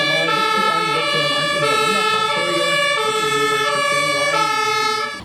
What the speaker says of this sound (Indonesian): lihat ini teman-teman, ada truk pemadam kebakaran